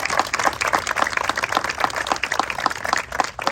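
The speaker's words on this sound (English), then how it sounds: "Let's have a round of applause." A school kickoff audience claps for the governor, a close, brisk patter of individual handclaps with an uneven rhythm, fairly loud and without talk.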